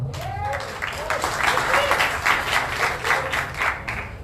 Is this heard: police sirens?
no